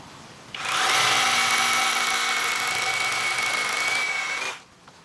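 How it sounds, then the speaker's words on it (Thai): A loud, steady cordless rotary hammer whine runs for about four seconds, drilling into concrete with a 6 mm bit, a bright pitched tone over gritty grinding, starting and stopping abruptly. "พร้อมแล้วเรามาเริ่มเจาะปูนกันเลยนะคะ"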